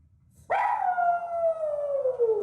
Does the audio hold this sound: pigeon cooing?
no